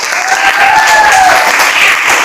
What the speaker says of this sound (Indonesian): Oke, aplaus untuk Ulfia dulu.